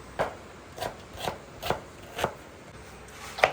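An onion is chopped finely with a knife on a board in a home kitchen, with about seven evenly spaced crisp cuts, close and moderately quiet, no one speaking.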